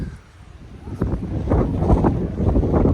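Wind gusts buffet the microphone outdoors at a classic car show, a rough, rumbling roar that builds and stays loud through the moment.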